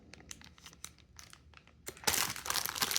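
A plastic bag of Italian limoncello cremino chocolates crinkles and rustles in quick handled bursts, growing louder and denser near the end, close up with no talk.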